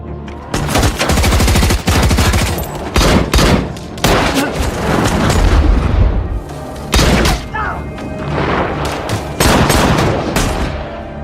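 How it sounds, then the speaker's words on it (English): A movie shootout erupts as a gang arrives and opens fire, with loud rapid gunshots and machine-gun bursts, heavy thuds and booms crowding together across the scene. "White Bull and the gang arrive and begin shooting."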